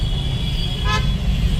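Amid a loud, continuous rumble of idling and creeping vehicles in a Delhi traffic jam, a single short car horn toots clearly in the middle, with steady roadway noise throughout.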